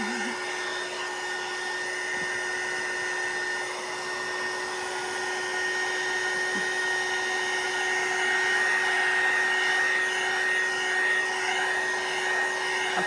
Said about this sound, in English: And so here, I've got my heating tool.